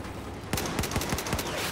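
Rapid automatic gunfire bursts out in a Battlefield 4 match, with a sharp string of close, evenly spaced shots that begins suddenly after a moment of low background noise.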